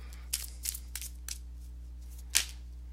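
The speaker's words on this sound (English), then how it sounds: "let me go ahead and give these cards a shuffle" Tarot cards are shuffled by hand, a series of short, crisp riffling and slapping bursts at irregular intervals, close and fairly quiet over a steady low hum.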